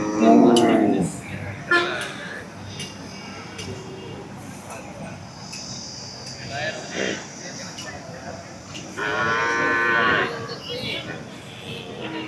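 Kangeyam breed cattle and calves low at the Kannapuram cattle market on a Saturday morning, with a loud moo at the start and another drawn-out one near the end, and people talking between them.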